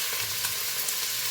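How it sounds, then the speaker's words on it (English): Steady, hissing sizzle of hot oil in a frying pan, heated for frying cabbage, continuous and close with no voices. "see if it starts sizzling."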